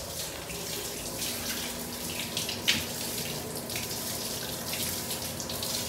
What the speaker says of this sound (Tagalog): nag-install na si Master Jojo ng ano rito, shower